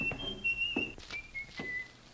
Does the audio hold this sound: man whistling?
yes